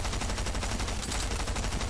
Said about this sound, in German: In einer Sekunde müsst ihr einfach nur ihn sprayen und versuchen, jeden Schuss zu treffen.